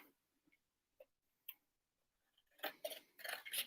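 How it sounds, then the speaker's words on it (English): Crisp, rhythmic snipping of scissors through paper, a few sparse cuts at first, then a quicker flurry of close, bright clips. "take your scissors and very carefully cut out your big circle"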